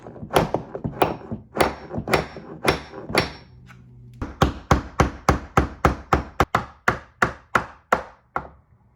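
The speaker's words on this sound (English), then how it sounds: "So I use a nail and throw it in there and hammer that up" Steady metal hammering of a nail into a door hinge, a run of sharp taps that pauses briefly, then resumes faster and more regular.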